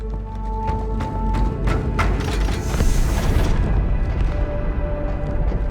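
A deep, rumbling explosion booms inside a spaceship in Halo 2, a loud sustained roar with crackling debris and metallic thumps building and then fading.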